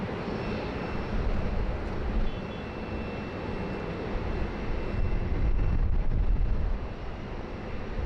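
An aircraft arriving at Sydney Airport on the runway 07 approach makes a broad, distant engine roar that swells and fades slightly, mixed with wind noise buffeting the microphone and no talk.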